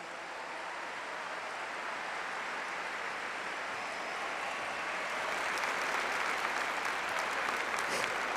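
Church congregation applauding together, a steady broad wash of clapping that holds for the whole stretch and swells slightly toward the end, with no talk over it.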